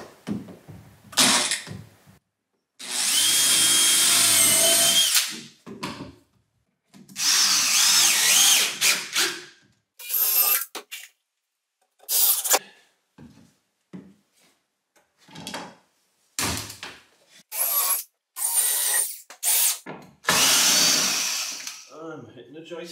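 Several bursts of a power drill driving screws through floorboards into joists, some long and sustained, others short, spaced by pauses with occasional knocks and shuffling of wood.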